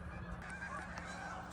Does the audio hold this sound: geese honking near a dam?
yes